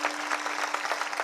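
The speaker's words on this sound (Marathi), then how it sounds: "करता जोरदार टाळी वाजवा एकदा सगळे." An audience at a Marathi kirtan gives a brief burst of clapping in steady, rhythmic beats, moderately loud and without speech.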